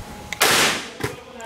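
A .357 revolver loaded with a .38 round-nose bullet fires at a helmet, giving one loud, sharp blast followed moments later by a shorter crack or impact over a quiet background.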